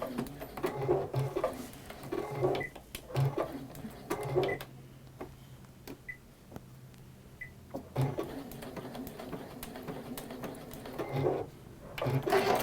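A sewing machine runs a decorative pattern stitch, working out a row of stars, in bursts of rapid mechanical whirring separated by brief pauses and quieter stretches, close and moderately loud.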